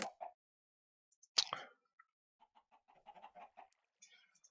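Video game chickens, likely Minecraft-style, cluck in short scattered bursts with sharp squawks and soft clucks separated by silent gaps, close and fairly quiet.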